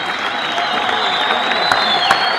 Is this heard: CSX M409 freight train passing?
no